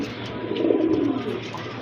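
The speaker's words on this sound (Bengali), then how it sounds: "আরেক জোড়া কবুতর রাজগোল্লা কবুতর অনেক বড় সাইজের" A pair of large Rajgolla pigeons at a farm coo once in a low, throaty, rolling call that swells and fades, heard close up with no voices.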